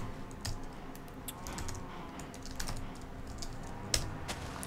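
Rapid, close keystrokes clatter on a computer keyboard during a Minecraft game session, with uneven bursts and short pauses and no talking.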